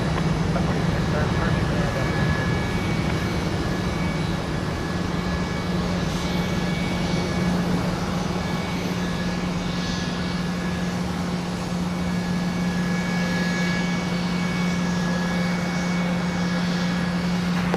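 A Delta jet airliner takes off at Minneapolis–Saint Paul airport, its engines producing a steady, broad roar with a low hum throughout, heard from a distance over a constant wash of noise.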